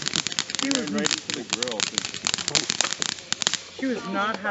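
Backyard fireworks crackle and pop in rapid, irregular bursts, sharp snaps scattered throughout at moderate distance, while several people talk and exclaim over them.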